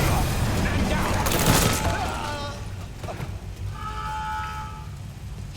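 Gunfire from a Mafia 3 cutscene shootout, a dense burst of shots peaking early and then thinning out, loud and close, with shouting voices over the firing.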